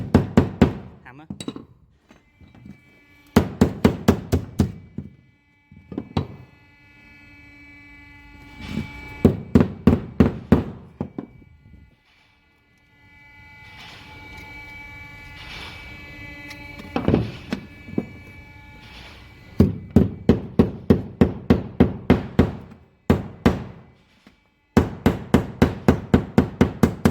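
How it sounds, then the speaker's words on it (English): Hammer blows on a bent steel panel from a Nissan Sunny rear door, struck in rapid bursts of sharp metallic clanks separated by pauses, close and loud, with a faint hum between the bursts. "It's going to use a hammer."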